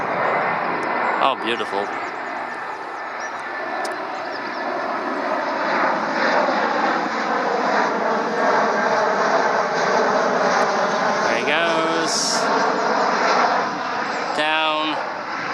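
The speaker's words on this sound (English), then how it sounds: "it's an EasyJet A320. So here he comes, he's on his final approach for runway 23." An EasyJet Airbus A320 on final approach to runway 23 in Greater Manchester passes overhead with a loud, sustained engine roar that swells and holds throughout, while someone briefly speaks over it.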